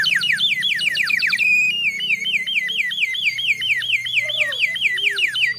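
Water-filled toy bird whistle imitating a sparrow, blown in rapid repeated chirping trills that carry on steadily and loudly throughout, with a faint low hum beneath and no talking.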